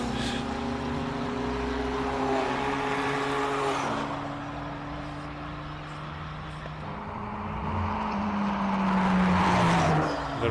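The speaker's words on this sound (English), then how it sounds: "it sounds as though, yes, it's misfiring all over the place" A race car at a hillclimb, its exhaust misfiring with pops and bangs, roars past at moderate distance, its engine note sustained and then swelling louder toward the end.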